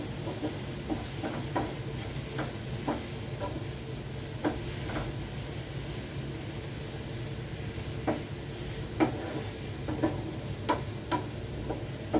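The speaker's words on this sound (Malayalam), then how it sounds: "തക്കാളിയും കൂടി ഇട്ടാൽ ഒരു കൊഴുപ്പൊക്കെ കിട്ടും ഇടുന്നുണ്ട്" Tomatoes cooking in a pan for a tomato curry, a soft steady sizzle with scattered light scraping and stirring taps throughout, close and fairly quiet.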